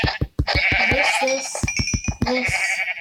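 Sheep bleat over and over in a video game sheep farm, overlapping wavering cries layered over rapid thudding clicks, loud and close throughout.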